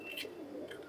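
An Indian high-flying pigeon gives a soft, brief coo, faint and close, against a quiet background.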